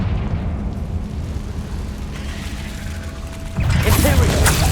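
A Confringo blasting spell hitting a barricade in Hogwarts Legacy, heard as a rumbling mechanical churn followed by a sudden loud, crackling blast near the end.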